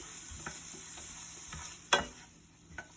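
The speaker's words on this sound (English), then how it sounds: "I'm using an electric skillet." Food fries quietly in an electric skillet, a soft low sizzle broken by a few scattered clinks and one sharp tap, close but faint.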